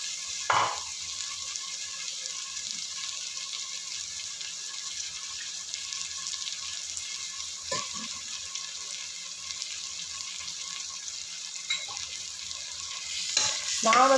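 Ginger, garlic and green chili frying with onions in a pan give a steady, even sizzle, with a few sharp clinks of the spoon scattered through it.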